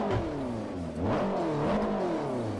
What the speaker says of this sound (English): listen to the turbocharger, listen to the exhaust